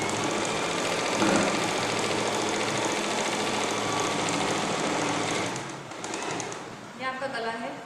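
A sewing machine runs a straight line of stitching through blouse fabric, a steady close mechanical whir that eases off and stutters toward the end, with a voice talking alongside.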